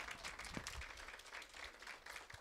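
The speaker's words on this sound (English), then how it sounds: "Go ahead and applaud for Mary." An audience applauds Mary Franklin, a county operations director, at an Arkansas Hunger Relief Alliance event, producing a steady, moderately quiet wash of clapping that fills the whole moment without any voices on top.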